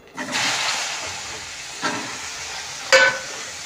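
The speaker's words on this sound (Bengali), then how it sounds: "বেগুনটা ভাজবো" Eggplant frying in hot oil with black cumin seeds gives a steady sizzling hiss, with a few sharper bursts of spitting as pieces are stirred or turned.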